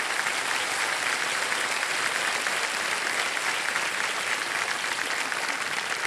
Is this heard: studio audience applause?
yes